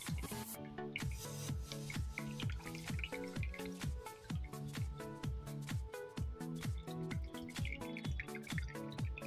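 Coconut water drains from a freshly tapped coconut in a steady, fast series of close drips and gurgling trickles, quiet and continuous with no talking.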